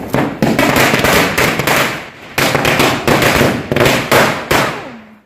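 A Diwali firecracker string explodes at close range, a loud, rapid crackle of pops in three dense bursts separated by short gaps.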